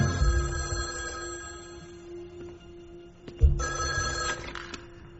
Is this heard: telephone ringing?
yes